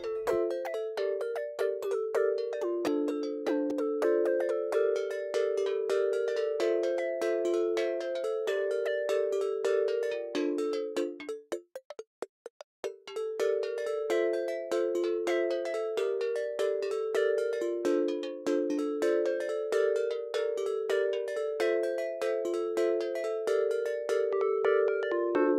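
A synthesized plucked string has its stiffness modulated by a sample-and-hold LFO stepping to a new value every quarter note, producing a steady metallic, cowbell-like pattern of shifting pitched hits, alone and continuous with a short break midway.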